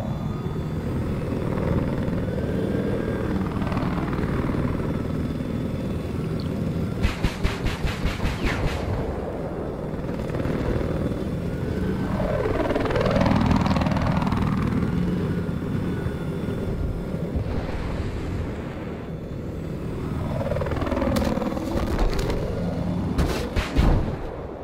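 A helicopter in the video game Battlefield 4 on the Caspian Border map drones loudly throughout, its rotor whine sweeping up and down as it passes, with bursts of rapid gunfire and explosions cutting in.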